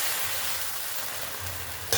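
Coconut milk stirred in a hot cooking pan, giving a dense, steady sizzle and bubbling hiss up close, ending in a sharp utensil clink.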